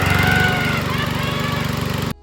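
Lawn mower engine effect: a loud, steady, rapid putter of a small motor running close for about two seconds before cutting out abruptly.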